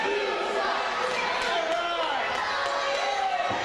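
A wrestling arena crowd chants in a steady, rising-and-falling roar during a tag team title match. The dense crowd noise fills the whole moment with no pauses.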